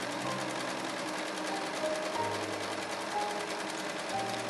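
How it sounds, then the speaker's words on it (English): A serger overlocks the outer edges of a neckline and arm facing on a pinafore, its steady motor whir running continuously and close, with a few brief pauses and speed changes. "I finish the outer edge of the neckline and the arm side facing with the serger."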